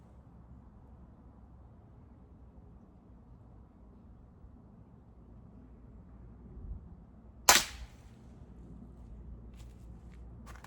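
A single sharp crack from a King break-barrel air rifle fired offhand with open sights, near and abrupt against a quiet background, followed by faint clicks.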